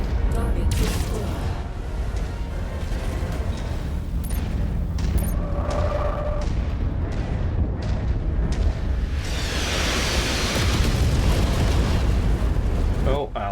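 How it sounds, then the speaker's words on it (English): Artillery shells striking a Battlemaster mech in MechWarrior 5, a dense run of booming explosions and crackling bursts that swells into a heavy rumbling roar near the end. "our Battlemaster's taken a hit from the artillery there"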